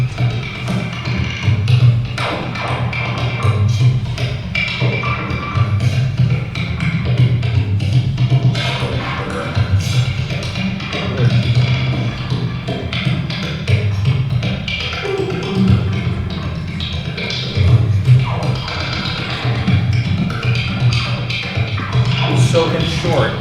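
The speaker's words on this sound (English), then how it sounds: "bodhrán interacting with electronics" A bodhrán frame drum played alongside interactive electronics at a bodhrán techniques talk, its steady beats merging with a dense, continuous low electronic drone and rumble, loud and unbroken for the whole stretch with no talking.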